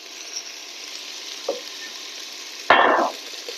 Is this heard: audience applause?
no